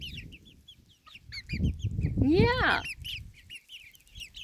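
Chickens clucking close by during feeding on a homestead, with a rooster-like squawk rising in the middle and scattered clucks around it; a person briefly speaks.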